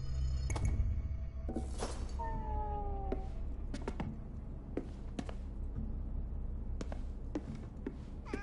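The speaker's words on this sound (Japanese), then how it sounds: "この猫、何してるんだろう?" A cat meows several times in Ghostwire Tokyo, short tonal calls scattered among sharp clicks and taps over a low steady game ambience, with no talking.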